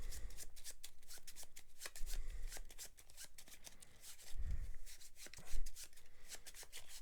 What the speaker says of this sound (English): And these are going to get shuffled.